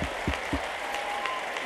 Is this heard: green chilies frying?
no